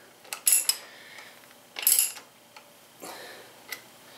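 A ratchet snugs up a bolt on the front fork of a 2016 Indian Scout Sixty motorcycle, giving several short bursts of rapid clicks separated by brief pauses, close and clear.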